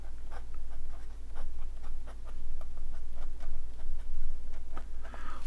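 A fountain pen scratches across the paper of a Franklin planner in short, steady strokes, close and intimate over a low constant hum, with no talking.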